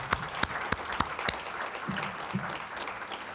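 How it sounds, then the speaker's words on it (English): Applause from an audience at a technology symposium, opening with a few sharp, distinct claps that quickly blend into a moderate, steady patter, with faint murmurs underneath. "let's give them a round of applause as well."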